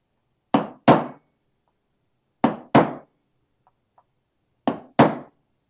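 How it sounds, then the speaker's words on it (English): Metal chisel strikes on a Mandalorian pauldron land in three pairs of sharp, ringing hammer blows, each pair about a second apart with quiet gaps between, close and loud with no talking. "It's just me sitting here doing a little bit of chiseling."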